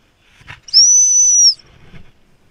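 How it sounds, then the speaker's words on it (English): A single sustained high-pitched gundog training stop whistle blast lasting under a second, loud and clear, with faint low rustling before and after. "Another stop whistle."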